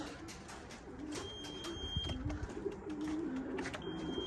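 Soft, low racing pigeon coos repeating at a moderate distance, gentle murmuring calls over a faint steady background hum.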